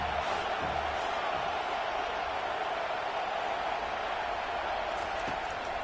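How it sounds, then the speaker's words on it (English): A stadium crowd roars during a football game on third down, a broad, steady wall of distant cheering that holds for several seconds without a break. "Decibels rising as the crowd gets behind this defense on 3rd down."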